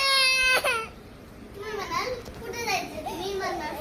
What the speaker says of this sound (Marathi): तुला काय झालं तू काय रडतो